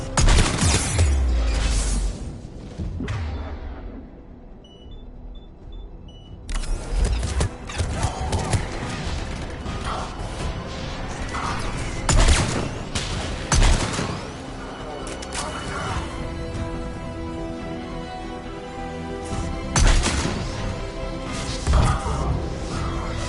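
Gunfire erupts at a Cerberus checkpoint in Mass Effect 3, with repeated sharp shots and impacts at irregular intervals. The shots are mixed with loud combat noise and voices, and there is a brief quieter gap early on.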